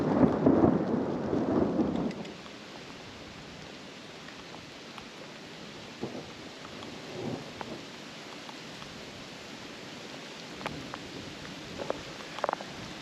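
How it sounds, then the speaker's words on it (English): Heavy rain falls steadily in a monsoon downpour, with a loud rumble of thunder up front in the first two seconds, then a wash of rain with scattered patters and drips close by. "it's raining really hard right now"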